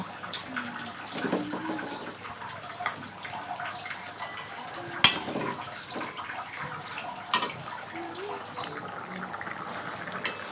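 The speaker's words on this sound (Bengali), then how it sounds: "এরপর আমি পরিমাণ মতো জল দিয়ে দেব" Water poured into a simmering egg and potato curry in a home kitchen gives soft splashing and bubbling, with occasional sharp clinks of utensils against the pot.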